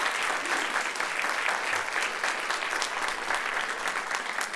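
A gala audience applauds for a few seconds at an awards evening honouring emerging artists, with dense, steady clapping that fills the room without a break.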